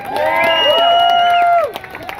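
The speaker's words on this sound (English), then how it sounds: "Let's give her another round of applause." Crowd at a street protest march against evictions in Burnaby, Vancouver, gives a round of cheering and applause with shouted voices, loud and sustained for about a second and a half before fading.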